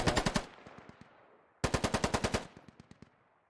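Automatic gunfire from an infantry squad video game comes as two rapid bursts of about ten shots each, loud and close, each burst trailing off in an echo.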